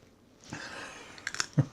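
Doritos dipped in cheese sauce are chewed up close, giving a brief moist crunch followed by a few sharp bites and squishy mouth sounds over under two seconds, with no voice.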